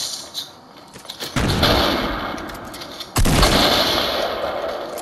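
A pump shotgun in Fortnite fires two loud, sharp blasts about two seconds apart, each with a ringing tail, over faint game ambience.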